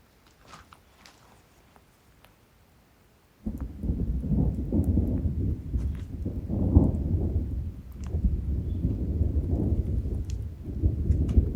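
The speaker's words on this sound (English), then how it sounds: "The thunder's been going off every few minutes." Low, heavy rumbling of thunder rolls in mountain wilderness near a lake, starting abruptly after a quiet moment and sustained loudly with swelling, uneven peaks for several seconds.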